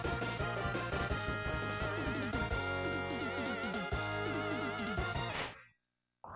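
A short synthesized level-complete jingle from the Mega Man X video game plays bright, bouncy chiptune notes, then cuts off, leaving a single lingering high ping before silence.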